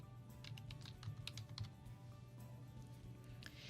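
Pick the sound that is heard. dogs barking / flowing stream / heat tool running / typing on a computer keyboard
typing on a computer keyboard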